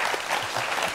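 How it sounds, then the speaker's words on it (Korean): Steady applause from an audience at a lecture on robots, a dense continuous wash of clapping with no breaks. "박수 부탁드립니다."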